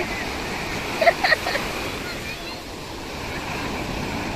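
Surf washes steadily onto Pirwadi Beach as a broad, continuous rushing wash, with wind noise on the microphone. A few brief vocal sounds rise above it early on.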